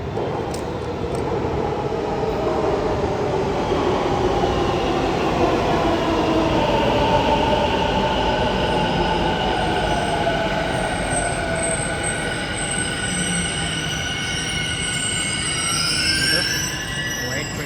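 A Whitefield-bound metro train rumbles into the station with rising and falling squeals of wheels and brakes, loud and sustained, with faint voices in the background.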